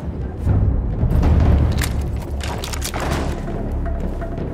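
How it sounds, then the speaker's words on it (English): Heavy artillery shells burst in a World War I battle in Battlefield 1, giving a series of deep, rumbling booms that overlap into a loud, continuous roar of explosions, with no voices. "Artillery fire ordered the cover retreat to beach, shelling the village and outlying forts."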